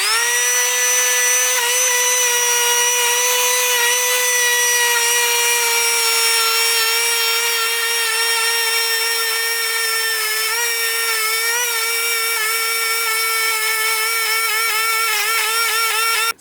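A brass wire wheel spins on a spindle against a vintage Honda Z50 engine casing, giving a loud, steady high-pitched whine with a slight waver, continuous throughout with no talk.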